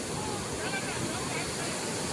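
Sea waves at Devbagh beach in the Konkan wash in as a steady, faint roar of surf heard from close by, with no break in the sound.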